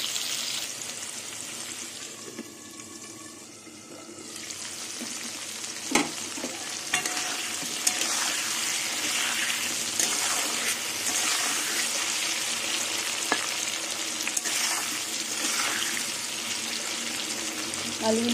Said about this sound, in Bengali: আলুটা ভাজছি